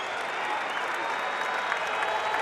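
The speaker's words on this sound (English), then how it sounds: "this crowd is getting loud" A basketball arena crowd at a Cincinnati versus West Virginia men's game applauds after a made free throw. Dense, steady clapping and cheering fills the whole span at full volume.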